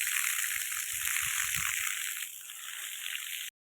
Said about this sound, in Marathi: नळी पाणी खूप फास्ट चालू आहे.